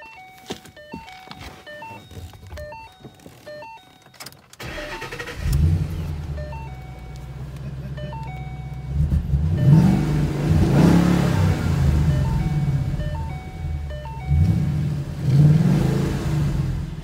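A bone-stock Ford Foxbody Mustang without mufflers fires up in a shop and idles with a loud, rough, steady rumble, then is revved in several swelling bursts; faint beeping tones come before it starts.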